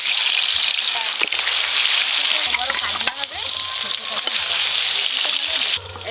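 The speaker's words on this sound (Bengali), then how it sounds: "এই একই তেলে মাছগুলো ভেজে নেবো।" Katla fish pieces sizzle and fry steadily in hot oil in a village kitchen, a continuous bright crackle with occasional spatters and a soft clink or two, close and fairly loud.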